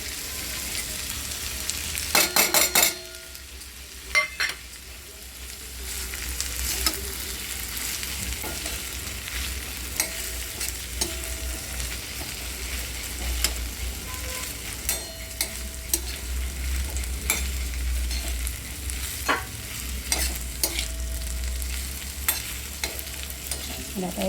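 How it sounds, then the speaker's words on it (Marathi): Guar bean sabzi with peanut powder is sautéed in a pan, giving a continuous soft sizzle with scraping stirs, and a few sharper clatters near the start. "आता हे परतून घ्यायचे, आपली भाजी"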